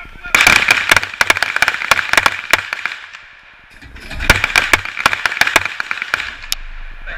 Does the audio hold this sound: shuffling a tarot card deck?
no